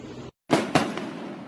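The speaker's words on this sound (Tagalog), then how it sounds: "Fireworks? It's Lapid on fire" Fireworks go off in two sharp, loud bursts close together after a brief silence, each followed by a crackling, fizzing tail that fades out.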